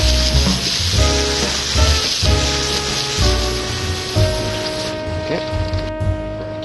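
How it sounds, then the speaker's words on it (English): Water sprays across a fish filleting table used for halibut, a steady loud hiss like heavy rain on a surface with splashing, under background talk and a constant mechanical hum. "We'll give your table a quick wash."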